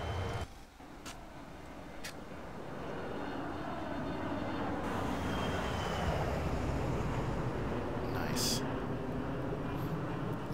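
A Boeing 737-300 in flight in X-Plane 11, a steady broad jet engine roar that swells and settles into a constant drone, with a few brief clicks over it and speech heard over the top.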